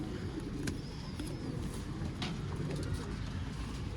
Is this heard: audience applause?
no